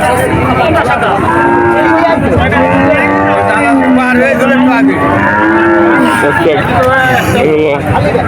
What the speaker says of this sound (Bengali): খুব সুন্দর সুন্দর গরু এই হাটে আসে